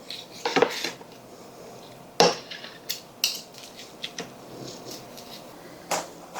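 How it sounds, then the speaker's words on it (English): Cooked chicken breast sliced with a knife on a board, a handful of sharp separate knocks and clicks spread unevenly over several seconds against a quiet background. "I'm going to go ahead and remove the whole breast meat right off. And I'm going to go ahead and slice that up."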